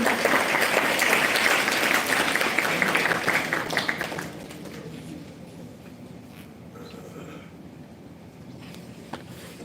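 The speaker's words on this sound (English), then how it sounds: "Can we have a round of applause for this?" Audience applause at an International Women's Day celebration at an institution, a lively burst of many clapping hands for about four seconds that then cuts off, leaving quiet room tone.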